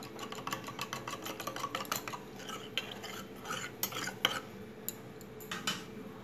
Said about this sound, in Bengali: দিয়ে এটা আমি ভালো করে গুলে একটা পেস্ট বানিয়ে নেব।